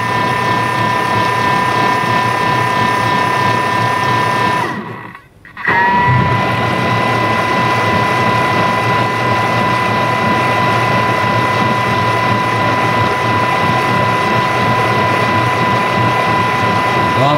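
A Thermomix kitchen machine runs its cleaning cycle with a loud, steady mechanical whir and a constant tone, broken by a brief silent pause before the motor resumes.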